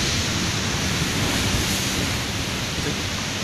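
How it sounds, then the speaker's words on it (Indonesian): Loud, continuous roar of surf at Nusa Dua, Bali, with dense broadband noise, waves churning steadily close by with no clear breaks. "Itu suara ombak yang berisik."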